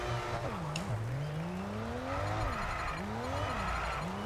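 Formula 1 car engine in the racing game F1 22, on the Jeddah circuit, revving loud and close with rising pitch sweeps through gear shifts, dropping on braking, steady and continuous with no talk.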